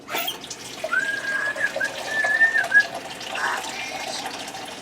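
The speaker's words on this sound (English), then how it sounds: "I'm going to add in 4 more cups of water" Water pours steadily into a pot, a continuous splashing stream with a rising hollow tone as it fills.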